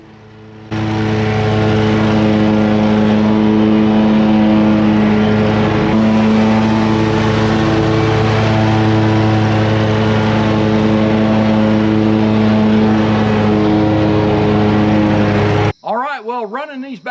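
Lawn mowers fitted with Tweel airless tires and Z-Glide suspension run in a loud, steady engine drone with strong even harmonics, holding constant for about fifteen seconds before cutting off abruptly.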